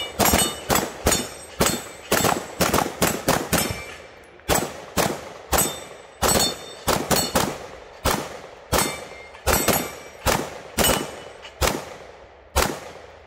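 Ruger PC Charger and SIG MPX pistol-caliber carbines fire about two dozen sharp, loud shots in quick irregular bursts, each crack ringing off briefly, with no talking.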